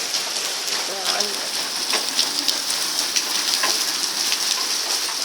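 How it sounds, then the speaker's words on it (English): Heavy rain pours down steadily during a worsening thunderstorm, a dense continuous hiss with scattered drop splashes, and a faint voice briefly audible beneath it. "Now it's really starting to rain heavier."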